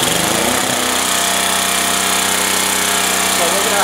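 A Generac G-850 portable generator with a Kawasaki engine fires up after a brief pull, then settles into a loud, steady, buzzing idle running close by without a break.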